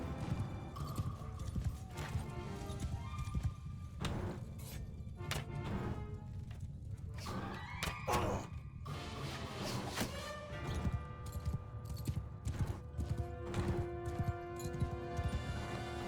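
Cavalry horses galloping in a massed charge in the Mount and Blade video game, a steady dense clatter of hooves with occasional whinnies and metallic clinks under shouted battle commands.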